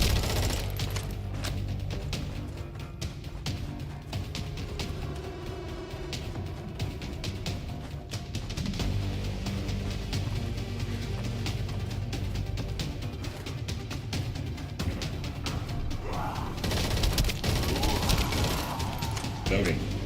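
Rapid SMG gunfire in the video game The First Descendant, dense bursts of automatic shots running almost continuously with heavy recoil booms, mixed under game sounds and a voice talking.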